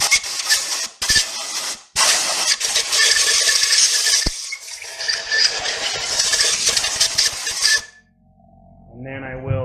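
Compressed air blasts loose debris off a cleaned engine block in repeated loud hissing bursts with short gaps, ending in quieter sounds after the air stops.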